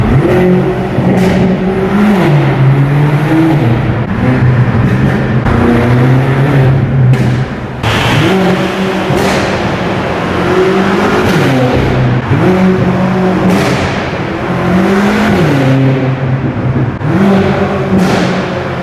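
A 1000 BHP BMW F10 M5 accelerates repeatedly, its loud engine rising in pitch through successive gear shifts with brief dips between pulls, heavy wind roar underneath throughout.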